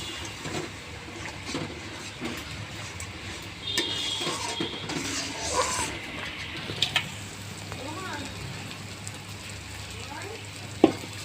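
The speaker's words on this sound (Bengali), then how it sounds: "এবার ভালো করে মশলাটা কষিয়ে নেব" Spice paste with turmeric and a splash of water sautéing in a pan for a vegetarian soybean curry, a moderate bubbling sizzle with stirring scrapes and a few sharp utensil clicks, while a voice talks over it.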